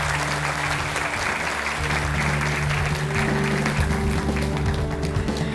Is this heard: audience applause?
yes